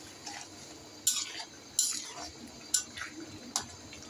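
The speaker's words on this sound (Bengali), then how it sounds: "আমি একটু নেড়ে দিচ্ছি" A spoon stirs spiced curry in a pan over a low flame. Four sharp metallic clinks land at uneven intervals over a soft, steady cooking hiss.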